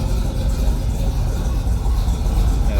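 A 1968 Oldsmobile 442 two-door hardtop, started cold, idles with a steady low rumble throughout, a dense continuous drone that stays close and loud without any revving.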